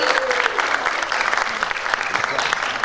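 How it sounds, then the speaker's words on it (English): Crowd at a Canadian film festival held in Lahore giving a big round of applause, steady dense clapping throughout with some voices mixed in. "Can you have a huge round of applause, please, everybody?"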